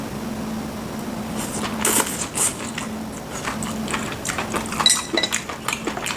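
Close, moist biting and chewing of raw beef liver and cheonyeop tripe, sliced with a sashimi knife and dressed with sesame oil and garlic, with soft crunchy bursts and scattered light clinks over a low steady hum.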